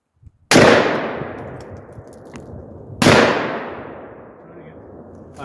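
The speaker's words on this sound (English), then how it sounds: "we're gonna shoot three more at that rim" Two loud, close shots from a Raging Judge Magnum .454 Casull revolver fired at a metal rim, each a sharp blast with a ringing metallic clang that decays slowly, about two and a half seconds apart.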